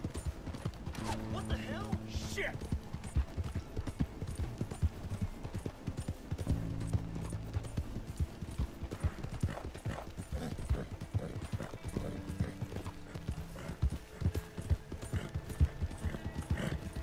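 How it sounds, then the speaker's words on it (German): Horse hooves pound rhythmically during a gallop in the Red Dead Redemption video game, a steady stream of close hoof beats with occasional snorts, while a voice talks intermittently over the riding. "Gott sei Dank habe ich ja ein sehr schönes, schnelles Pferd."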